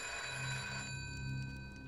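A telephone rings inside a video game, a bright electronic bell tone that is sustained and fairly quiet, continuing through the whole stretch without any voices.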